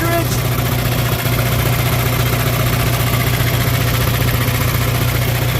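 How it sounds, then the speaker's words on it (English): A 1962 John Deere 3010 tractor engine runs at a steady idle, a continuous low rumble that stays close and even throughout with no pauses. "It's a good sounding little tractor, guys."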